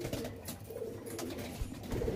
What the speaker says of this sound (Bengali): দেখো এই পায়রাগুলো দেখো